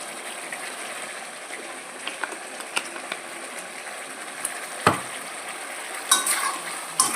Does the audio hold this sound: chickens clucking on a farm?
no